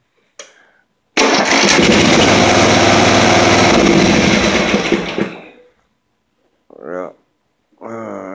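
A Toro TimeCutter 1642Z zero-turn mower engine cranks and runs loudly with the choke set too far on, roaring steadily for a few seconds before dying away, followed by brief spoken words.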